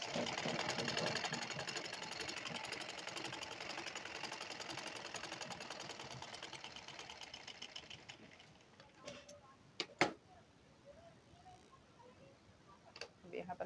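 A sewing machine runs steadily for about eight seconds stitching a lined blouse, then stops, leaving faint clicks and handling knocks.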